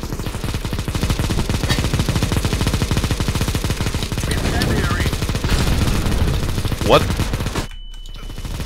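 Rapid automatic gunfire from a shooter video game, a dense steady rattle that runs almost the whole time before cutting off near the end, with a brief voice over it.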